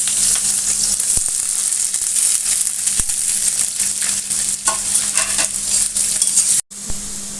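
Potatoes fry in a pan until deep brown with a loud, continuous crackling sizzle and busy stirring scrapes throughout, then a brief dropout near the end.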